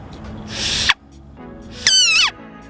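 A loud, piercing whistle blown through cupped hands, heard as two close bursts: a breathy hoot followed by a sharper, higher tone that slides downward, with no talking.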